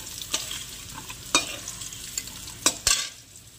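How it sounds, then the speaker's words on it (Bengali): Pointed gourd and potato pieces frying in hot oil, a soft sizzle under several sharp clatters and scrapes of a spatula stirring them in the pan, close and fairly quiet. "আর প্রথমে আমি পটলগুলোকে ভেজে নেব।"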